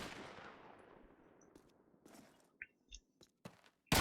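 Gunfire in the PC shooter Call of Duty 2 during a competitive match on the Toujane map: a fading burst at the start, then scattered sharp single shots and a loud close crack at the end.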